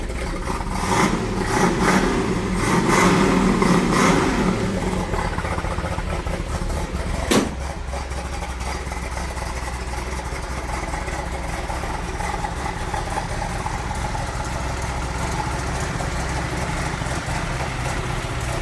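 A 1968½ Ford Mustang GT Fastback with a 428 Cobra Jet V8 rumbles nearby. A loud rev swells in the first few seconds, a sharp knock follows, then it settles into a steady, deep idle.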